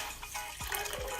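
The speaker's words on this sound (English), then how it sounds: "I have a cup and a half of water. I'm just going to go ahead and start pouring that in there like so." A cup and a half of water pours into a pot of toasted quinoa, a short, quiet gush with bubbling, splashy pulses close by.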